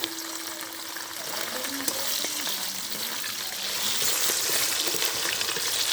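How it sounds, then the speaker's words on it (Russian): Meat sizzling in a hot pan for Tajik reza-shurpa soup in Khujand, a steady broadband frying hiss that swells slightly louder toward the end, with faint clinks of stirring and no talk. "Обжариваем чуть-чуть мясо."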